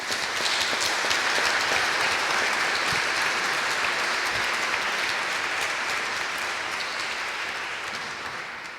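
A seated evening panel audience in Berlin claps warmly in welcome, giving a dense, sustained wash of applause that holds steady for several seconds and then slowly tapers, with no speech over it.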